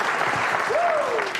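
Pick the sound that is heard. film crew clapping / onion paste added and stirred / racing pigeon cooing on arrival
film crew clapping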